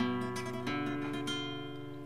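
A flamenco guitar plays a soleá tremolo passage, with bass notes moving under fast repeated treble notes. The playing is close and clear, and notes ring into each other over about two seconds.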